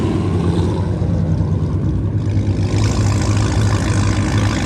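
A car engine idles at a gas station with a steady, loud low rumble that swells slightly as if lightly revved, continuing without pause and with no talking.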